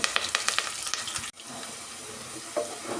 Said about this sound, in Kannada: ಈರುಳ್ಳಿ ಕೆಂಪಗೆ ಫ್ರೈ ಮಾಡೋದ್ರಿಂದ ತುಂಬ ಚೆನ್ನಾಗಿರುತ್ತೆ